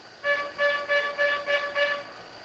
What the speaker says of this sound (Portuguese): Vem buzinando.